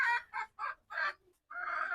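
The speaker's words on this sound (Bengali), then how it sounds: "এই হলো আমার ছোট দেশি মুরগির খামার" Close, repeated clucking from native chickens on a small farm in short bursts, followed by a longer drawn-out cluck; no talking.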